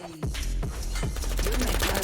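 Rapid bursts of video game gunfire crackle in quick succession, loud and close, with a few sharp impacts over a short stretch.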